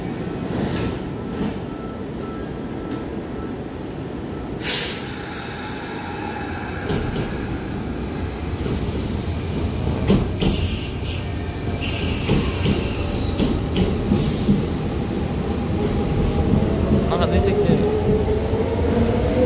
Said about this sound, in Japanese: 向こうから電車来てます。